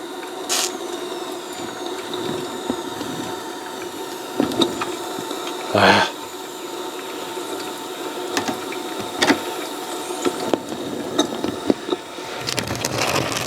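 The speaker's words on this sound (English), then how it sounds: "Now we'll pull the engine ahead." A small steam locomotive on a steel railroad pulls ahead along the track, with mechanical ratcheting and clanking at irregular intervals, one louder burst of hissing in the middle, and a busy, moderate background clatter.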